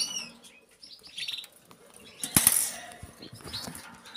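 Well-grown ringed young birds chirp and tweet close by, with a brief burst of wing flapping midway, and no one speaking.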